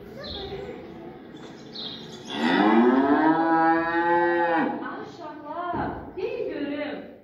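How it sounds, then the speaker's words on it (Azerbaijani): A cow gives a long, loud, drawn-out moo close by, followed by shorter lowing calls, with faint bird chirps around it. "bugünkü məşğələmiz inəklər haqqındadır"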